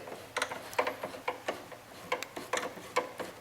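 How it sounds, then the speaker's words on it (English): A hand ratchet clicks in short, rhythmic bursts of sharp metallic pawl ticks, close and clear, while it backs out the pivot bolt on a motorcycle. "I need to remove this pivot bolt"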